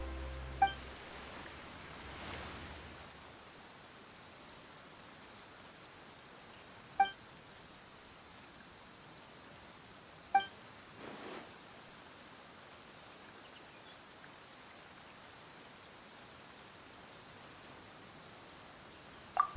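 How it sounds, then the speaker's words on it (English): Soft, steady rainfall in the video game Genshin Impact forms a faint continuous hiss, broken by a few short bright interface blips and light clicks scattered through. "Why is it raining all of a sudden?"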